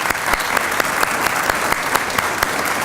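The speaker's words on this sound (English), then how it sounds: "let's give them a round of applause" Loud, dense applause from an audience at a Veterans Day 2017 ceremony at UT Health San Antonio, many hands clapping steadily with sharp individual claps standing out close by.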